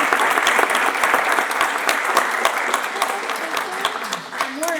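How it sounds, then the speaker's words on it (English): An audience applauds the teachers at a kindergarten graduation ceremony, a dense, steady burst of many hands clapping that carries on throughout and slowly tapers toward the end. "let's give the teachers a round of applause."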